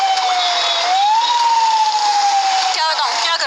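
A police car siren wails loudly on a Lahore street in one long, slowly rising and falling tone that dominates the scene, with a brief warble near the end.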